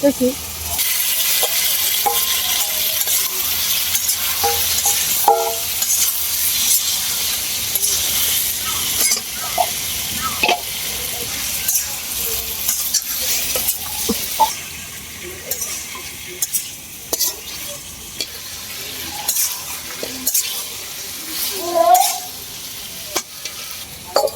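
Hilsa fish curry with taro and spices sizzles and fries in a pan while being stirred, a steady hiss with scattered scraping clinks throughout and occasional faint voices.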